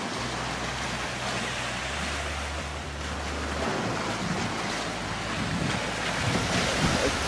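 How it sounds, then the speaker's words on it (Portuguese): Sea waves washing onto the shore at Ikema Island, Okinawa, a steady broadband surge with wind noise over the microphone and a low rumble, continuous and fairly loud throughout, with no talk. "Ó, água do mar."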